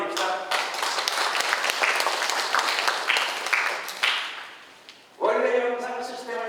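An audience in a Lutheran church breaks into applause. The clapping is dense and sustained for about five seconds and then thins out, and a voice speaks over the end.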